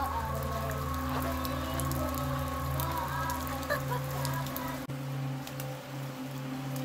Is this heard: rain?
yes